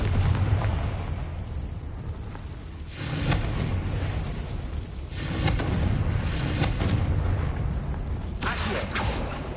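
Repeated Confringo spell blasts in Hogwarts Legacy on PlayStation 5, a series of roaring explosive bursts spaced a couple of seconds apart over a continuous loud rumbling background.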